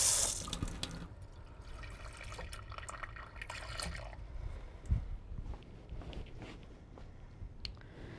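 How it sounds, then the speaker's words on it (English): Water splashes and trickles faintly into a blender jar as half a cup is poured, a soft, low-level wash with a few small knocks and drips. "I think we need to add about a half a cup of water"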